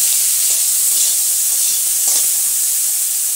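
Chopped onion and capsicum frying in a pan, a steady loud broadband sizzle with faint stirring scrapes near 0.5 and 2.1 seconds, no talking.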